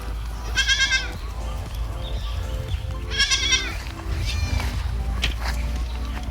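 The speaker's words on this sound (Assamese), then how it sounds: "70 মান ছাগলী আছে নতুনকৈ পোৱালি হৈছে" Goats and newborn kids on a farm in Assam, including Beetal and Barbari breeds, bleat in several loud wavering calls from close by over a constant low background hum.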